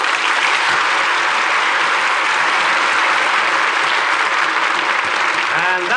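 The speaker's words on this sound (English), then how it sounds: "And that applause will assure you both how much we enjoyed tonight's performance." A studio audience applauds the cast of a Lux Radio Theater broadcast of The Jazz Singer with sustained, even clapping; a voice begins speaking at the very end.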